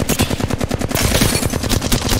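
Rapid automatic gunfire from a competitive first-person shooter match, dense bursts of machine-gun fire sounding loud and close, with a heavier sustained volley in the second half.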